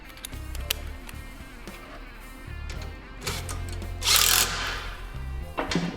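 A bolt on a GY6 150cc engine mount for a Honda Ruckus is tightened with a tool, giving close, intermittent mechanical whirring, ratcheting and metallic clanks in short bursts, with no talk.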